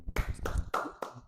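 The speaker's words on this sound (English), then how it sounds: "Let's clap it up." Several sharp hand claps ring out in quick succession, four distinct bursts spaced about a quarter second apart, close and fairly quiet.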